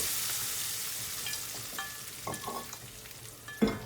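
Fried onions are stirred in a sizzling pan, steady frying hiss with scraping spoon strokes and a few knocks against the pan toward the end.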